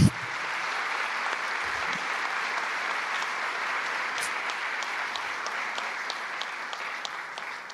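Sustained applause from a church congregation, a steady dense patter of many hands lasting several seconds, evenly loud with no talk over it.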